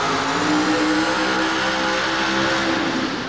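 A short-wheelbase monster truck engine roars loudly and steadily at a 1989 USHRA event in Worcester, a dense, rough, sustained rumble with no break across the whole stretch.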